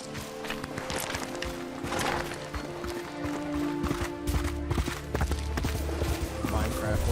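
Horse hooves clip-clopping in a video game, a steady run of hoof beats under loud game music and effects, with people talking over it.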